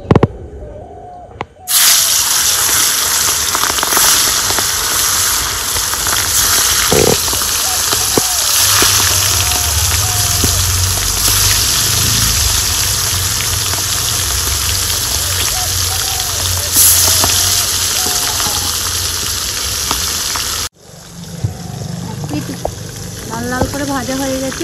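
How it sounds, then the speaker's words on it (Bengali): Pangas fish pieces go one by one into hot oil and fry with a loud, close, continuous hiss and crackle that stops abruptly near the end, with a person talking at times. "তেলের মধ্যে এবার মাছগুলো এক এক করে ছেড়ে দেব।"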